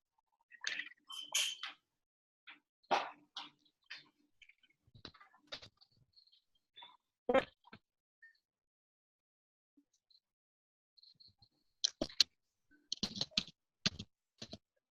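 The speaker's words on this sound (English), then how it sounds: "I can hear her typing." Sparse bursts of keyboard typing, quick clicks in short clusters separated by pauses, light and somewhat distant in a quiet room.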